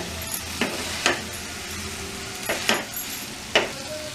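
Chow mein noodles being tossed in a hot pan, a steady sizzle under several sharp scraping strokes of a utensil against the pan, close and clear.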